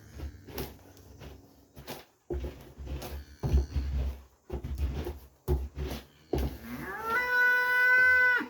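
Farm cattle waiting to be fed are heard amid a series of irregular thumps and clatters, then a long, loud moo swells near the end, fairly close.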